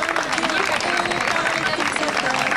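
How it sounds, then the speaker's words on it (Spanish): Crowd applause for a local cyclist at a rural bike race, a steady wash of clapping and cheering mixed with someone speaking loudly over it on a public address. "¡Vamos al aplauso, querido!"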